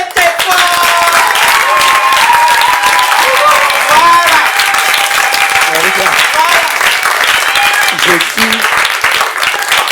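An audience at a community gathering bursts into loud, sustained applause with cheering, dense clapping that holds strong for about ten seconds before slightly thinning near the end.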